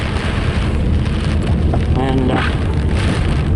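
Heavy spring rain pours down on a car in a steady, loud roar, while someone talks briefly over it.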